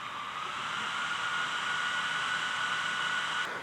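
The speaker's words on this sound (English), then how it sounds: "this is how it sounds like when the fans are on for the Dyson." A steady, airy whir of small visor cooling fans on a Dyson helmet runs continuously at an even level, close by with a faint tonal hum and no voices.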